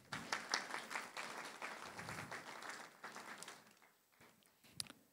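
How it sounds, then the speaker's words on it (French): Congregation clapping in a French-language Sunday church service, a fairly quiet, dense crowd applause that thins out and fades toward the end with a few last scattered claps. "vous pouvez l'applaudir maintenant"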